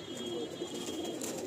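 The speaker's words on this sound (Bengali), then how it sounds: "এরা ফিমেল পায়রা, মাদি পায়রা" Female pigeons in a breeding loft give low, continuous cooing, close and steady, with no talking over it.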